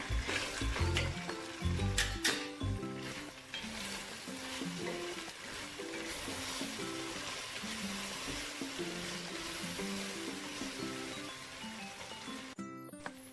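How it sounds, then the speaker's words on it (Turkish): Pasta with minced meat toasts in butter in a pan, giving a steady close sizzle, with clattering stirring noises in the first few seconds and a continuous frying hiss afterward. "Makarnalarım da kavruldu arkadaşlar"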